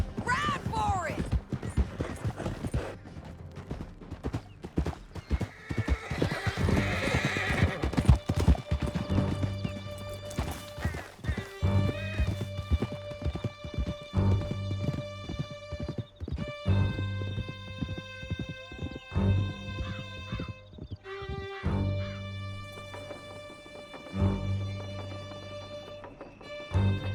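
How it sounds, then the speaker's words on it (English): Horses gallop in the game Red Dead Redemption 2, with rapid clip-clopping hooves, neighs and whinnies, and game music and effects layered over the riding. "That's the end of the canyon! And I think we might be free of them! Ride for it!"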